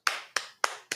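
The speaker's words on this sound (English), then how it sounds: "Golf clap." A slow, deliberate golf clap: four crisp, evenly spaced hand claps, close and alone, each ringing briefly before the next.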